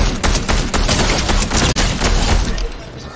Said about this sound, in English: I hear shooting over here like they know me.